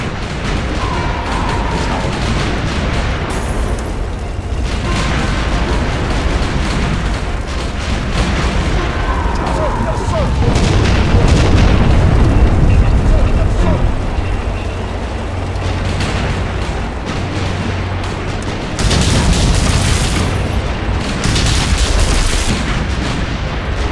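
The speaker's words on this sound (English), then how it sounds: "Damn those Heinkel bombers. It'll take too many casualties just trying to ram through the front line with these things nailing us from the air." Heinkel bombers attacking from the air in the strategy game Empires: Dawn of the Modern World, with loud continuous booming explosions and gunfire rumbling throughout, several heavy blasts standing out.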